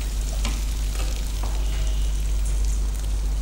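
Capsicum and onions fry in a pan with a loud, continuous sizzle and a few stirring scrapes, close up and with no talking.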